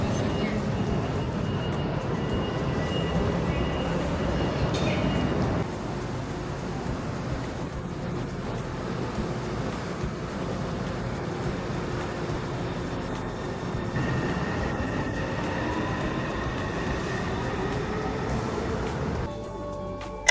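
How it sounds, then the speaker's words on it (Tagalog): Steady rumble of a Taipei MRT Red Line metro train in motion, with a shift in tone partway through and a brief rising whine near the end; no talking. "We'll take the MRT Red Line from Jantan Station back to the Taipei main station"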